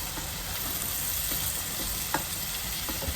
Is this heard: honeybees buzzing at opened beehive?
no